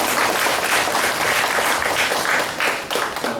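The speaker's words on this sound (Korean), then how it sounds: "수강생을 대표해서 박수 좀 하고 싶습니다" A lecture class claps together in a full, loud round of applause honoring a dedicated student, dense continuous clapping that briefly dips and swells again near the end.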